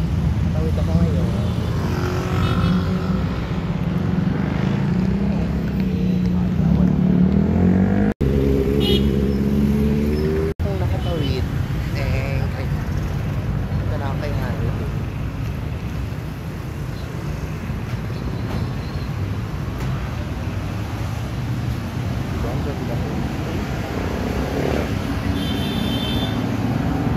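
Highway traffic rumbles steadily nearby, with vehicles passing and a broad engine roar swelling and fading, while a person talks over it now and then.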